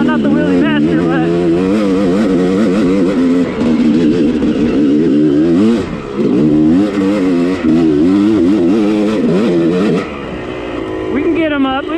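A motorcycle engine revs loudly and close during a wheelie attempt, its pitch rising and falling in repeated throttle blips with a brief dip in the middle, and a voice talks over it.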